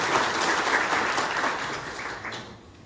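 An audience at a hotel signing ceremony claps continuously, a dense wash of applause that gradually tapers off toward the end.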